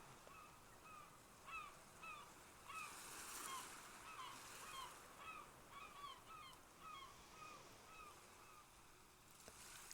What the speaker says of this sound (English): and you can hear the seagulls.